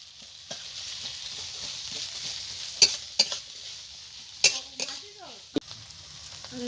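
Chopped onions and green chilies frying in a pan on a new clay stove, a soft continuous sizzle broken by several sharp clinks and scrapes of a spoon stirring.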